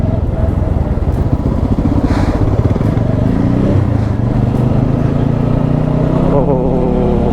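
A motorcycle rides through the streets of Goa, its engine droning loudly and continuously up close, with shifting pitch as it accelerates, while wind noise and faint traffic surround it.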